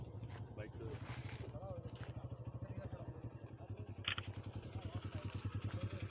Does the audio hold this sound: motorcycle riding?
yes